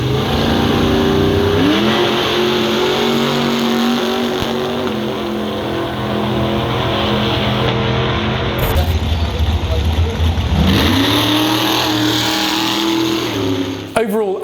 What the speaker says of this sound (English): these cars launch at incredible speed